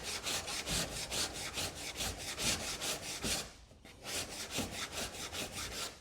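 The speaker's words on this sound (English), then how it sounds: "what I need to do is be very careful not to sand too much out here on the edge" Hand sanding of an epoxy fill coat on a kayak hull, a steady rhythmic rasping of quick back-and-forth strokes, close and continuous, with one brief pause midway.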